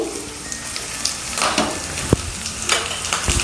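Garlic and curry leaves sizzling in hot oil as a tempering for Vidarbha-style kadhi gole, with a steady crackling fry broken by sharp pops and spatters close by.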